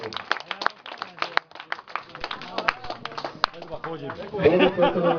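An audience at a cycling race award ceremony claps for the winners, at first as scattered individual claps mixed with voices, then swelling into denser applause near the end, mostly under chatter.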